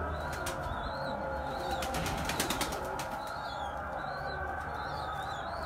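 Pigeons in a coop, a dense steady background of birds with soft cooing and occasional bursts of wing flapping, close and continuous, with no talk.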